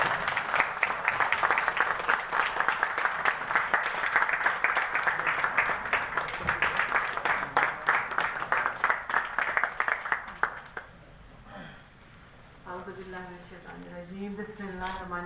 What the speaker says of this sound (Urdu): آپ کی بھرپور تالیوں میں ڈاکٹر سیمی بخاری صاحب